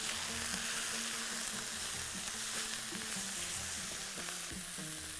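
Ginger sizzles and fries in a pan with a steady, close crackle, and occasional stirring scrapes and clinks break through the hiss. No one speaks.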